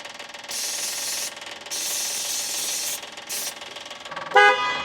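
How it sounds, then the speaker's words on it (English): A Westfield XI car horn honks in several long blasts with short gaps, loud and close, followed by a brief grinding burst at the end. "Well, there's the horn."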